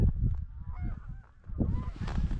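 A flock of geese honks loudly and close as the birds rise into the air over a plowed corn field, their overlapping calls continuous through the short moment.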